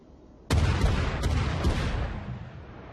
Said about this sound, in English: Dude, the range on the cannons.